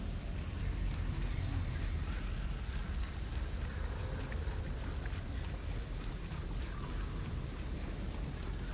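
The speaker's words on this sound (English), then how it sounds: "With a nice rainy day." Steady rain falling on a dull day, a dense continuous wash of drops with low rumbling underneath, close and fairly loud, with no voices over it.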